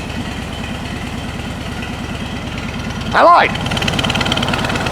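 A 1969 VW Beetle engine idles steadily up close with a fast, even low throb, broken briefly by a short spoken voice before the idle carries on.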